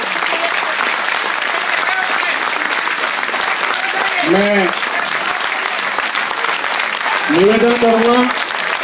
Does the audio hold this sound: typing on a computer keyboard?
no